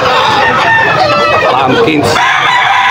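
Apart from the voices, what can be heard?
chickens at a market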